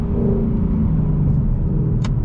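A 2018 Ford Mustang GT engine, modified, held at high revs in fifth gear, a loud continuous rumbling drone with a steady pitch, close by and with no speech.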